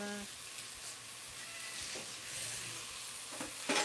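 Cooking oil sizzling in a pan with bok choy, tomato paste and cumin seed, a steady close hiss and crackle with light stirring and a faint voice.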